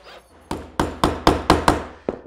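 A power drill drives screws into a wooden table saw jig, giving six sharp, loud bursts in a steady rhythm followed by one fainter final burst, close up with no talking.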